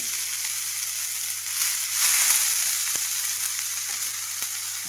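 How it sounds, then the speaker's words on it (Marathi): Fenugreek greens mixed with moong dal fry on a hot griddle in steady, close sizzling that swells briefly midway, with a few sharp ticks near the end. "तर आता ही भाजी तव्यामध्ये टाकून घेते"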